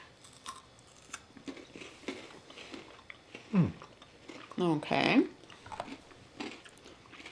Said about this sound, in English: The wafer is definitely crunchy.